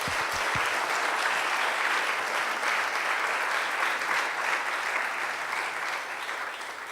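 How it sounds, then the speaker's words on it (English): Audience at an Earthpreneurs 2018 event gives a round of applause for a person welcomed on stage, a dense, sustained clapping that holds loud and even throughout before easing slightly at the close. "So we'll give him a round of applause."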